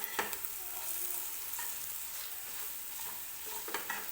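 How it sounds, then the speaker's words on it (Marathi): Spices for lasuni methi sautéing in a pan: a continuous, fairly soft sizzle close by, broken by a few crisp scrapes and taps of a stirring spoon. "हे सगळे मसाले जे आपण टाकले होते ते सुरुवातीला असेच परतून घ्यायचे आहेत"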